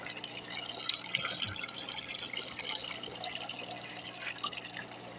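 Water runs and drips into a container being filled to clean tubifix worms, a steady trickle with irregular drips and splashes, moderately close with no talk.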